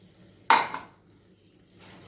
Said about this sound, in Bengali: দিয়ে ভালোভাবে সুন্দর করে নাড়াচাড়া করে দেবো